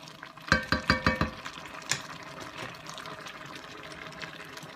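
Water poured into a pot of sweetcorn chowder cooking on the stove, a short run of splashing pulses followed by a softer steady liquid wash, close and moderately loud.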